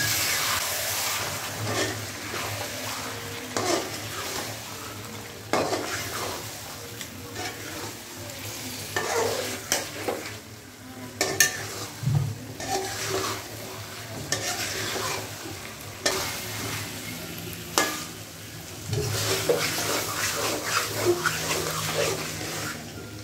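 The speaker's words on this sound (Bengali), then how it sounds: "একটু গরম জল দিয়ে দিচ্ছি, মশলাটা না হয় পুড়ে যায়।" Spice masala sizzling in a pan after hot water is poured in, a steady frying hiss broken by repeated scraping stirs and occasional louder bursts over about twenty seconds, no speech.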